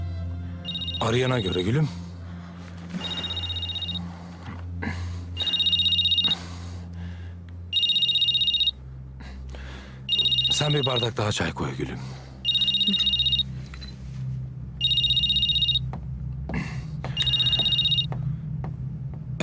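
An old-style telephone bell rings in repeated regular bursts with short pauses between them, loud and close, while a voice speaks over the first ring in a tense TV-drama scene.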